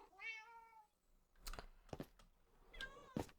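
Cats in Minecraft give a clear synthetic meow at the start, followed by sharp clicking and tapping bursts, all heard at low level without talk.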